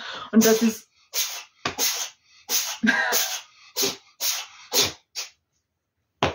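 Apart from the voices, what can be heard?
sneeze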